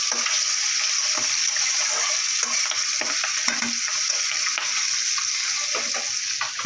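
Fish roe frying in a pan of oil, a steady close sizzle with frequent small crackles and pops throughout, no voices.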